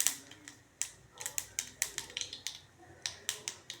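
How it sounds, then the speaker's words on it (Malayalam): Mustard seeds splutter in hot oil for a Chinese potato stir-fry, crisp sharp pops bursting irregularly, sometimes in quick clusters, close by and loud against a quiet background. "കടുകൊന്ന് പൊട്ടി വരുമ്പോൾ"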